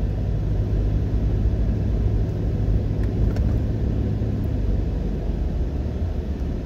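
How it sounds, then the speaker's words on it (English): Steady road traffic at a busy intersection in Jamaica near the Portmore turnoff, a continuous low rumble of passing cars and engines with no voices. "this is a very busy intersection."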